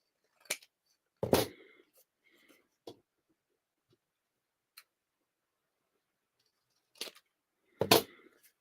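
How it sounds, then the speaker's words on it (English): Scissors snip paper during a craft project, making a few sharp, close cuts spaced irregularly, with quiet gaps and faint handling sounds between them. "And then we're going to cut it on this side also."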